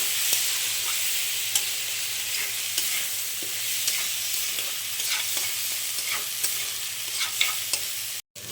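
Rice stirred in a hot pan with a bay leaf hisses in a continuous, close sizzle, broken by repeated scraping strokes of the spoon. The sound cuts out briefly near the end, and no one speaks.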